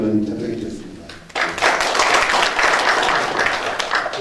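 Applause from the audience at a National Assembly member's education policy forum on Korean history textbooks bursts in after a brief voice and continues as dense, steady clapping filling the room.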